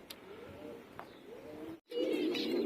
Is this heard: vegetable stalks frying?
no